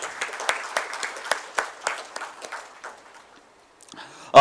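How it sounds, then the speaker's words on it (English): Freshmen at a BRAC University orientation give a round of applause, dense clapping near the start that thins and fades over several seconds before a brief voice at the end. "Let's give ourselves a warm round of applause"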